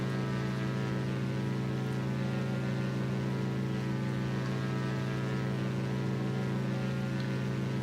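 Twin engines of a Diamond DA62 aircraft in X-Plane 11 at full throttle, a steady, loud droning hum with strong low harmonics, unchanging and alone throughout.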